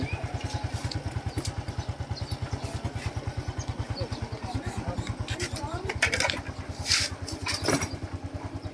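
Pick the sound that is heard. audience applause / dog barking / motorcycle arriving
motorcycle arriving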